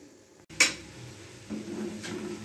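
A metal lid clanks down onto a cooking pot of chicken with one sharp clatter, followed by a softer rattle and quiet kitchen sounds.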